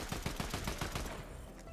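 Gunfire in the Fortnite video game, a rapid burst of about eight close, punchy shots in quick rhythm that trails off into a fading echo.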